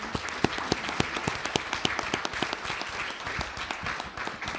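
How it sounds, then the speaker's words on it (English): Church congregation applauding at a Celebrate Life service, steady dense clapping from many hands, fairly loud and continuous for several seconds with no voices over it. "I want to give them a round of applause for doing that,"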